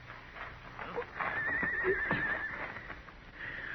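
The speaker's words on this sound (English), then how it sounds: "Well, I'll take my horse then, Ellen." Horse in an old western radio drama lets out a wavering whinny mid-clip, fairly close, amid background movement and faint hoof sounds.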